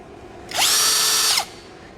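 Close by, a cordless STR impact drill with 60 Nm torque revs to a steady high whine for about a second, then winds down, alone in a quiet room.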